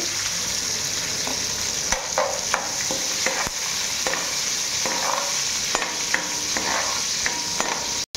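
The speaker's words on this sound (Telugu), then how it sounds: "దీని తర్వాత ఉల్లిపాయ ముక్కలు వేస్తున్నాను." Finely chopped onions frying with tempering seeds in a pan for uggani, a continuous close sizzle broken by repeated spatula stirring and scraping, with no talking.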